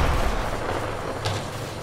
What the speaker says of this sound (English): But they heard the gunshot.